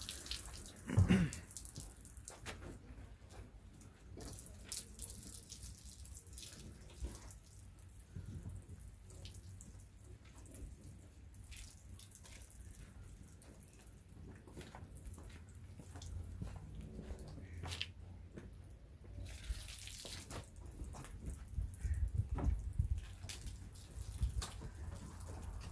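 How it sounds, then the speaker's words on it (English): Water runs and splashes as a car is washed, a faint, continuous hissing spray with scattered drips and gurgles throughout. "I'm just gonna get it washed."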